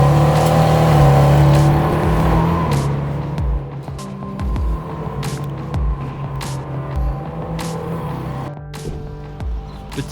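A Porsche 911 SC engine drones loudly and revs during the Coupe des Alpes rally. The tone rises and settles as it runs on, with brief knocks and bumps heard over it.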